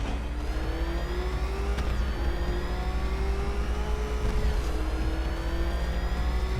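The Batmobile's engine in Batman Arkham Knight revs steadily with a rising, droning whine, loud and continuous throughout, with brief surges near the start and middle and no speech.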